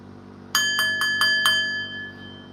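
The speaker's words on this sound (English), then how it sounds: "It's like the bell for school" Five quick bell strikes ring in an even rhythm over a low steady hum, each one sharp and metallic with a short ringing tail, then the sound fades away; it resembles a school bell.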